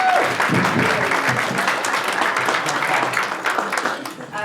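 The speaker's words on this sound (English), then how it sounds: "Yes, round of applause for TG Caher." An audience claps loudly and continuously for several seconds, a dense wash of applause that tapers slightly toward the end.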